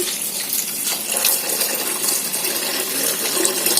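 Water poured steadily into a pot of pumpkin stew made with tamarind pulp and jaggery, a continuous close splashing pour lasting the whole stretch with no talk over it.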